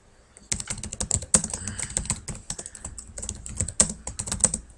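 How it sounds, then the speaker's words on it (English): Rapid typing on a computer keyboard, a dense run of close, crisp key clicks in an uneven rhythm with brief pauses, heard alone without talk. "this is just a lot of typing, and I'm doing it"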